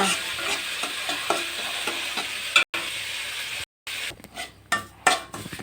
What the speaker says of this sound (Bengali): সুজিটা আমি আস্তে আস্তে করে লাল করে ভেজে নিচ্ছি